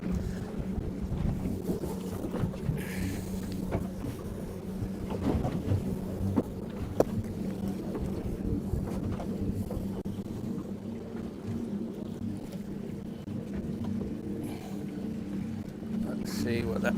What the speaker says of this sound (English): That boat zipping along there, which you're hearing, it's got 4 250 horsepower outboard motors on it.